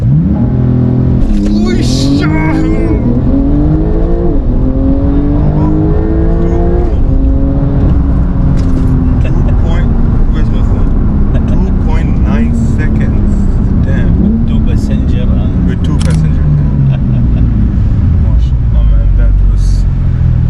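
A Porsche 911 Turbo S, rated around 640 horsepower, launches under launch control for a 0–100 run. The loud engine climbs through several rising gear pulls in the first seconds, then holds a steadier roar, with voices talking over it.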